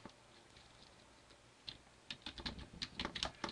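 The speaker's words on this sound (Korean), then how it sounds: "타자 치면 돼요." Typing on a computer keyboard during an accounting software exercise, scattered soft key taps at first, then a denser run of quick clicks building toward the end, close and alone without speech.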